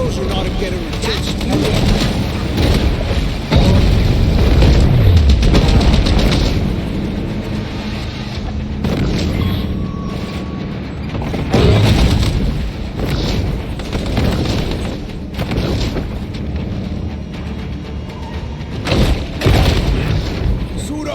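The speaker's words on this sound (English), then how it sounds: "An explosion ought to get her attention." Deep booming explosions go off repeatedly in the shark video game Maneater, heavy thuds mixed with game sound and a voice talking throughout.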